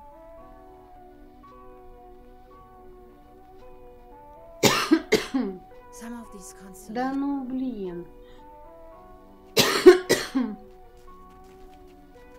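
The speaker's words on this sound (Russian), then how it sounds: "Кашель" Several harsh coughs in two bursts, close and loud, with someone speaking briefly between them over a soft melodic background tune, in the video game Truberbrook.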